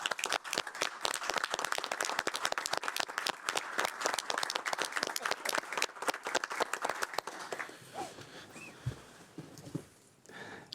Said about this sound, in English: Let's have a round of applause for Clark Meek.